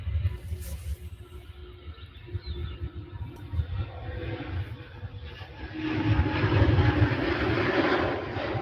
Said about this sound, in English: Gear up and gone. Lovely takeoff.